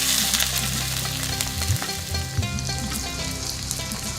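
Onion paste frying in hot oil in a wok gives a loud, continuous sizzle with crackling spatter and stirring scrapes throughout.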